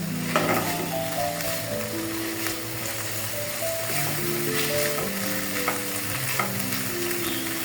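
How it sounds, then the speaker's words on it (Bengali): Salted thankuni (Asiatic pennywort) leaf paste fries in a pan as its water cooks off, a constant broadband sizzle with faint stirring scrapes under a layer of background music. "ভর্তাটা খুব সুন্দর মতো ভাজা ভাজা করে নিব"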